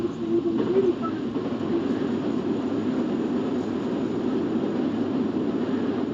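London Underground Northern Line tube train running through a tunnel near Kennington in the OpenBVE train simulator, a steady low rumble of motors and wheels that stays loud and constant, with no talking.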